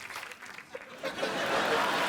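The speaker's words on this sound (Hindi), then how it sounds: "तो एक बार जोरदार तालियां हो जाएं पूरी मिर्जा की कास्ट के लिए" Studio audience on The Kapil Sharma Show breaks into applause, starting after some faint talk and sparse sounds, then building into steady, fairly loud clapping over the second half.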